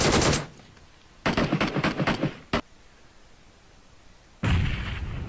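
Gunfire and a grenade blast in PUBG Mobile: a burst of rapid shots, a loud single report, then a heavy explosion rumbling out, with quiet gaps between.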